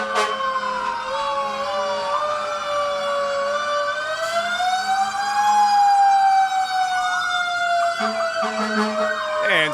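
A fire department fire truck's wailing siren rises and falls loudly and continuously at a Labor Day parade, staying close and dominant throughout with no one talking.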